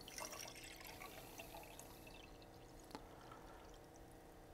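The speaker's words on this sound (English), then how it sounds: "I'm going to take the saturated silver acetate solution. I'm going to pour it into a 400 milliliter beaker." Saturated silver acetate solution is poured into a 400 milliliter beaker, a faint, steady liquid trickle with a few small splashes and drips.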